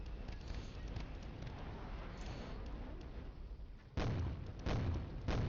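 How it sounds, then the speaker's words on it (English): Artillery fire in the wargame Flashpoint Campaigns: Southern Storm, with a dense, continuous rumble of distant shelling and a few heavier booms near the end. "Enemy artillery fire detected from probably this position."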